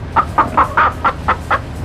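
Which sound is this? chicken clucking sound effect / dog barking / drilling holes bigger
chicken clucking sound effect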